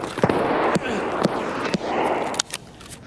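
Video game gunfire comes as several sharp shots spaced through a constant noisy background, with faint voices underneath.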